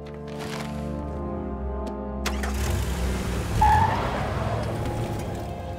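Cars in a LEGO Jurassic World park drive along, a steady engine hum rising into a louder rev and a short tire squeal around the middle, with no one speaking over it.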